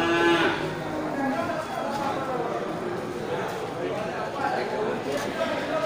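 Aceh cattle low at a busy livestock market, with a few drawn-out moos rising over the steady crowd noise and chatter of people talking nearby.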